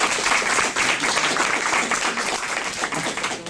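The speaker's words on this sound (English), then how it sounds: "You only get one round of applause." Sustained audience applause at a retreat event, dense steady clapping from a crowd filling the whole stretch with no gaps, moderately loud and fairly close.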